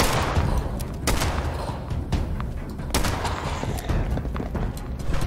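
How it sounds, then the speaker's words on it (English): Dense gunfire in Fallout 76, rapid bursts of shots and booming impacts overlapping continuously over a loud game mix. "I'll just shoot until he falls"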